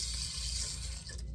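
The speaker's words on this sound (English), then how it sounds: "run a little water and dip the tips here" A bathroom tap runs a little water for dipping razor tips, giving a steady, close hiss of flowing water for a brief moment with no talking.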